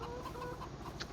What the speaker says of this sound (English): Just checking our chickens.